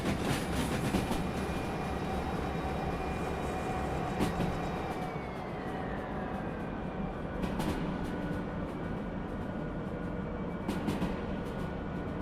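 An 800-metre freight train rolls along in the railway game Derail Valley, giving a continuous low rumble with faint rhythmic wheel clicks and a few sharp clanks, and no voices.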